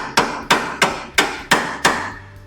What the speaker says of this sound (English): little hammer never hurts.